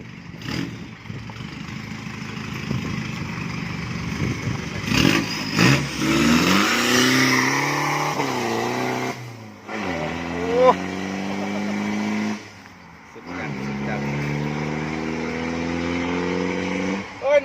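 Right after an installation, a petrol car's engine revs repeatedly on a test drive, rising and falling through the gears up close, with people talking in the background.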